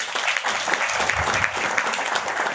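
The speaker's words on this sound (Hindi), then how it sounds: "एक जोरदार तालियां" Enthusiastic crowd applause at a seminar talk, a thick continuous roar of many hands clapping at fairly even loudness throughout the short stretch.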